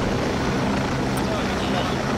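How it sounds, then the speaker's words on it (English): A steady, broad rotor-like drone of a helicopter in the video game Project Reality, continuous and fairly loud throughout, with no clear break. "ask the helicopter to come back"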